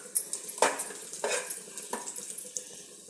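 Water splashes into a pan of ghee-roasted cashews, almonds and raisins while making mango sheera, heard as soft, close pouring bursts and light sizzling.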